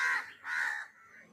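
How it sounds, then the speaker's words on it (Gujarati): Crows at Indroda Park give two close, loud caws, each with a short gap before the next, followed by a fainter trailing call with no voices. "અને આ કાળા છે એ કાગડા કાગડા છે અહીંયા જો."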